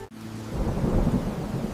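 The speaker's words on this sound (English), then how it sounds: "Rain hammered the streets of Harare" Heavy rain lashes the streets of Harare while a deep rumble of thunder rolls in after a brief sharp crack, loud and sustained, with no voices.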